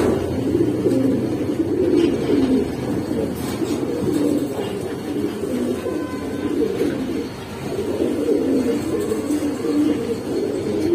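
Caged Giribaz and Pangkhi pigeons coo continuously at a pigeon seller's, a dense, rolling low chorus of many birds close by, with no talk over it.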